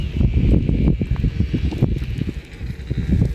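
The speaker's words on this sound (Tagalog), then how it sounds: "Lakas ng hangin" Strong wind gusting hard, heavy low rumbling buffets and rustling that surge and ease irregularly close by.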